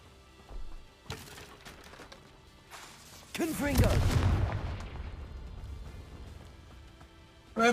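A Confringo fire spell detonates in a video game, a sudden loud blast with a rumbling, crackling tail that fades over several seconds, followed by a sharp sound at the end.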